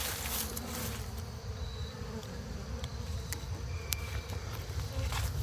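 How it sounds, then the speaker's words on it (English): Honey bees buzzing steadily inside an open hive of a colony affected by mites, a soft constant drone of many insects heard up close, with no voices. "Lots of bees in here as well."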